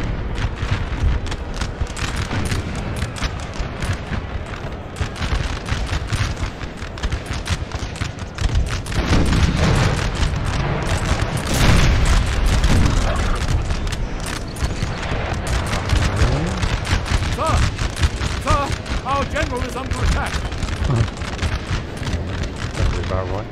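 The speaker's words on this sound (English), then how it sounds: "That's the cavalry gun, that's the interesting thing." Horse artillery cavalry guns boom in a Napoleon: Total War battle, heavy dense blasts and rumbling volleys rolling continuously under game noise and talking, with the loudest bursts near the middle.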